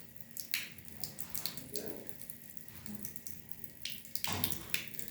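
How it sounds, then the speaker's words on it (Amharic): A tap runs steadily while someone at home washes their face with plain water and no soap, with splashing bursts rising over the flow, close by and with no voices. "እንግዲህ በሳሙና አይደለም ብቻው በባዶ ውሃ ብቻ ነው የምታጠበው።"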